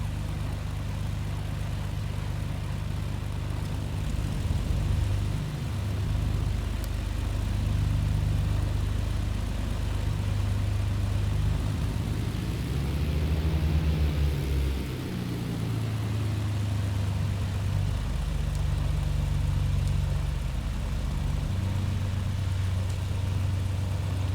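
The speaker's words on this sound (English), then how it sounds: "Go ahead and start the left engine now." Left engine of a BN-2 Islander in Microsoft Flight Simulator 2020 spools up and runs at a steady low drone, with a brief swell in pitch midway before settling back to a continuous rumbling idle, no voices.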